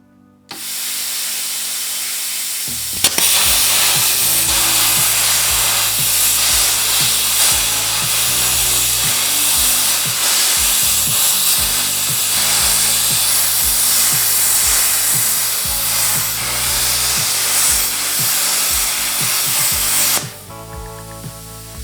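A plasma cutter with the voltage cranked up cuts into a steel bolt with a loud, continuous roaring hiss that starts abruptly and runs for about seventeen seconds before cutting off, close and alone.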